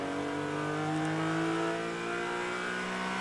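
Dodge Viper race cars on a circuit during a vintage and sports car race event, a steady sustained engine drone holding a high note throughout, moderately loud and unbroken, with no talk.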